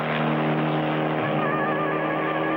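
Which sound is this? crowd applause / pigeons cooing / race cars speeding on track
race cars speeding on track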